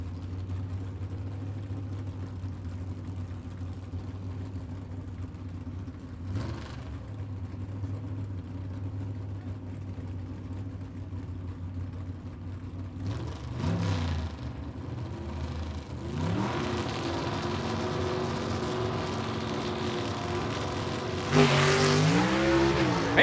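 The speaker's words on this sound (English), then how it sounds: "a wheel stand that won't quit" A gasser drag car at the Southeast Gassers Association Spring Nationals test and tune launching into a wheel stand. A loud, deep engine rumble holds steady, then swells into a rising, roaring rev as the car pulls hard off the line.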